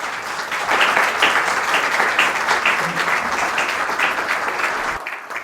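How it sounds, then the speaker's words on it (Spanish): An audience at a tribute event breaks into loud, dense applause that carries steadily for about four seconds before tapering off abruptly near the end. "Un aplauso."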